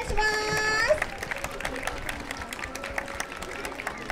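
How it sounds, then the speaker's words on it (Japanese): Scattered crowd applause at an outdoor wind band parade for a high school band, following a brief sustained chord; light irregular clapping continues with an announcer's voice over it. "皆さん大きな拍手をお願いします。"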